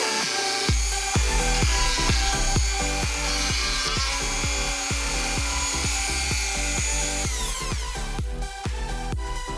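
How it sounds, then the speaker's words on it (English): Dremel rotary tool grinding on a DOOM rocket launcher prop build, a loud continuous high whine with rhythmic pulsing bursts throughout, alone with no talk. "Dremel tool time."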